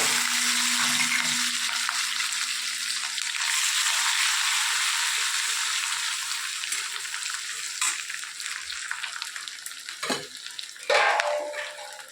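Mustard seeds, green chilies, peanuts and potatoes fry in hot oil with a steady, loud sizzle that crackles throughout, broken by a few stirring scrapes near the end.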